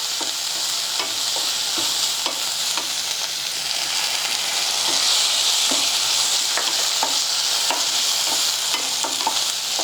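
A tempering for bajra (sajje) kadubu is stirred in a hot pan, with a steady loud sizzle and frying crackle throughout and repeated scraping strokes of the spoon, close and without talk.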